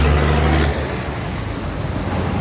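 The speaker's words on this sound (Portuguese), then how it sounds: "Deixa passar o som do caminhão" Heavy truck rolling past on a road, a loud, close low-frequency engine rumble that swells at the start and then eases into a steady, noisy roar with a faint hiss on top.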